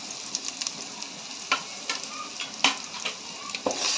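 Sambar masala, red chili powder and black masala sizzle as they are sautéed in a pan, a steady soft frying hiss broken by scattered clinks and scrapes of the stirring spoon.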